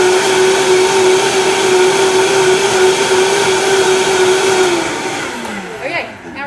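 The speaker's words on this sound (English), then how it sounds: "I am gonna blend that up real quick" A blender whirs loudly and steadily while mixing wet ingredients for chia donuts, then winds down with a falling pitch near the end.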